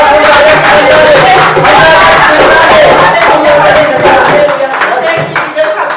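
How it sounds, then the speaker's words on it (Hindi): A church congregation claps loudly together during a Sunday service, a dense, fast round of hand claps filling the room, with a voice and crowd sound underneath, thinning toward the end. "पिता परमेश्वर जोरदार ताली बजाएं"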